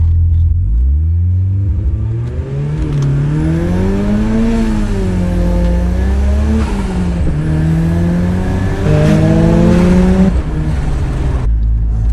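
Car accelerating hard from standstill on a 0-60 run with extra boost, a loud close engine roar climbing through revs, easing off at gear changes and climbing again, no talk.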